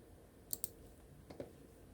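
Two sharp mouse clicks, a quick pair followed by a softer second pair, on a button in Microsoft Excel 2021 while setting up data validation, faint and close with no talk.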